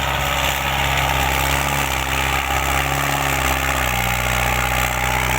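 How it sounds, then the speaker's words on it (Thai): A heavy tractor engine runs steadily nearby while clearing ground, a continuous low rumbling drone with a constant vibrating hum and no pauses. "รถไถเคลียร์พื้นที่ก่อน"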